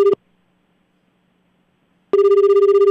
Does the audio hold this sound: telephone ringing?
yes